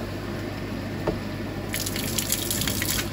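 Water running out of a leaking appliance: a constant close wash of flowing noise that grows brighter and splashier partway through, with no voices.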